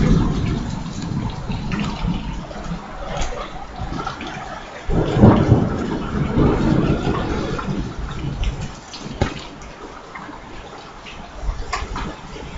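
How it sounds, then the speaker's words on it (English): A thunderstorm with heavy rain drums steadily over a parking lot, with a big boom of thunder rolling through midway and further low rumbles and scattered splashy impacts around it. "Oh yeah, another boom."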